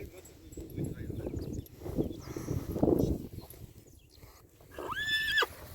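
A horse whinnies near the end, a rising then falling squeal, after stretches of shuffling hoof sounds and rustling in an outdoor setting, as the horse walks slowly along a field boundary.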